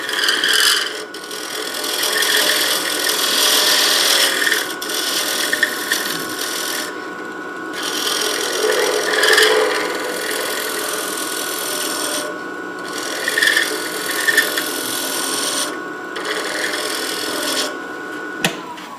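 Shear scraping of a wooden decorative wall button: repeated raspy strokes of a blade along wood, close and fairly loud, in an uneven rhythm with short pauses between passes.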